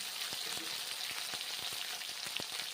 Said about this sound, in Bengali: পটলগুলো ভেজে নিচ্ছি তেল গরম হয়ে গেছে বেশ ভালো মতো